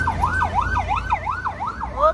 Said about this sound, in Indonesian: Polisi apa ambulan ya ini? Ambulan ternyata.